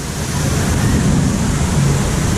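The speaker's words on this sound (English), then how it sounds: "Oh, nice big waterfall." A big waterfall pours beside the rapids ride at Linnanmäki amusement park, heard as a steady, loud rush of water that holds constant throughout with no pauses.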